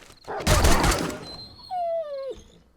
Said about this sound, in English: Luckily, it was just a normal wolf.